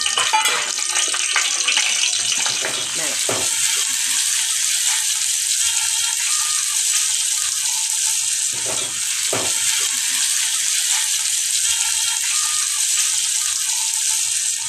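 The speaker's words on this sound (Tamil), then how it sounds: "ஆயில் காஞ்சால் தான் கடுகு சேர்க்கணும். அப்போ தான் அது பொரிஞ்சு வரும்." Mustard seeds spluttering in hot oil for a pepper kuzhambu tempering, a constant loud frying hiss with crackles and pops, close up, with a few brief dips and no talking.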